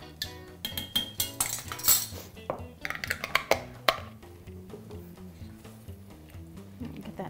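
A spoon stirs about a tablespoon of pickling liquid into spicy black-eyed pea soup in a pot, giving a run of light metallic clinks and scrapes against the pot that rise and fall irregularly, close and fairly quiet, with no talking.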